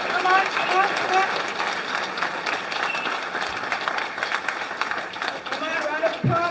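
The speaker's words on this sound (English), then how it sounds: "Round of applause for all 6 candidates." Applause from a crowd welcoming six candidates at a political campaign launch, a dense, steady clatter of clapping that carries through the whole stretch while voices talk and call out over it.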